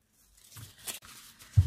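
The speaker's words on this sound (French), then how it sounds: "c'est dans un plastique, je vais vous couper ça" Plastic packaging around a skein of yarn is cut open close by, giving a short crinkle and rustle followed by a sharp snip near the end.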